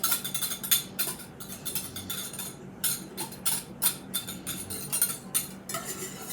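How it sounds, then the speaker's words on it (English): A spoon stirs sugar-free, tomato-based low-carb barbecue sauce in a pot, scraping and clinking against the metal in a steady, repeated rhythm, close up with no talking. "Got to stir."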